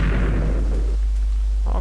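A mob explodes in Minecraft with a loud, heavy burst at close range, and its rumble cuts off after about a second.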